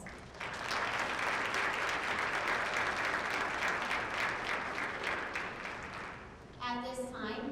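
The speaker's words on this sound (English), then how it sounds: "Please give our students a round of applause." Audience at a high school National Honor Society induction ceremony claps in a sustained, even round of applause that fills the hall, then fades near the end.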